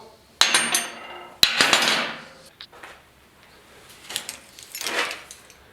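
A hammer strikes steel while forming a dimple in a new hood latch for a 1939 Chevrolet: two sharp, close metallic smacks about a second apart, followed by softer clinks and handling noise.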